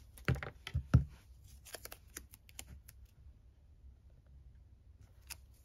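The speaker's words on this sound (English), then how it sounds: "I'm just putting some more tape on for decorating purposes" Adhesive tape torn from a roll and pressed onto decorated paper for a junk journal, a few quick close rips and crinkles at the start, then faint handling sounds.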